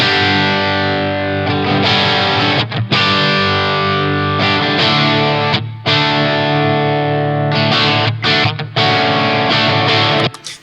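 A Les Paul electric guitar, coil-split to a single coil in the bridge position, plays through a Blackstar St. James EL34 amp plugin with a 2x12 cabinet. Loud, distorted chords ring out in bursts with short gaps between them.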